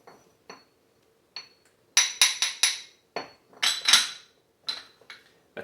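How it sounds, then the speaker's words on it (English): Salt being ground by hand in a small old-fashioned stone grinder, a series of sharp, close scraping and clinking strokes in irregular bursts with quiet gaps between. "We're putting it into this little grinder here, the old-fashioned way, stone grinder."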